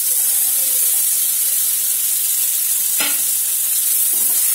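Tomatoes tossed into a hot pan and stirred while cooking Maggi noodles, a strong, steady high hiss of sizzling with a sharp clink of a utensil partway through.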